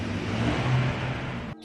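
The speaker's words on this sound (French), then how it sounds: "J'espère que vous entendez pas tous les bruits des voitures qui passent." A car passes on a road outside a garden, a close swelling engine whoosh that holds for over a second and then cuts off abruptly.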